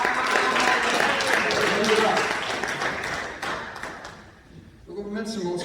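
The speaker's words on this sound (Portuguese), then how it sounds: "Receba o servo do Senhor com palmas para Jesus." Applause from a church congregation welcoming the preacher, dense and steady for about three seconds before fading. A voice begins speaking near the end.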